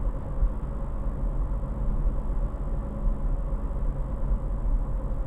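A stock Honda Civic engine idles steadily with a low, even rumble and a constant hum, close and unbroken for several seconds.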